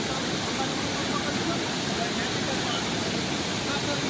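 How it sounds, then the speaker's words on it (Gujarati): Floodwater of the Ojat river rushes through a breached embankment in monsoon rain, a steady, loud, broadband roar of fast-moving water that holds even from start to finish. "પાણી એટલું વહે કે અહીંયા ઊભા પણ દેતું નથી"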